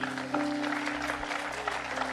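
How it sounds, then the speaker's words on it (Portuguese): A church congregation claps in praise to the Lord, a brief round of applause over a sustained organ-like tone and low murmur. "Uma salva de palmas ao Senhor."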